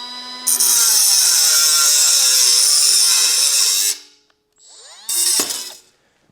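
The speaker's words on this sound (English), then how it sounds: "So we'll go over to the saw and start cutting these." A saw cuts metal parts in a fabrication shop: a loud, sustained high whine and grinding for about three and a half seconds, a brief pause, then a shorter second burst of cutting.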